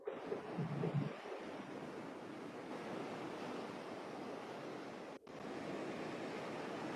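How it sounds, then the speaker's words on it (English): Ocean waves roll in continuously as a steady broadband wash of surf, close and moderately loud, with a brief rumble at the start and a short dip near the end. "I hear waves rolling in."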